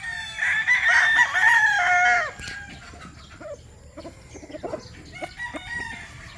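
A young stag rooster kept for breeding crows once, loud and close, for about two seconds, followed by quieter clucks and scattered farmyard rustling.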